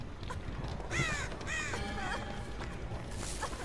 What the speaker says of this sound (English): Shut the fuck up, crows.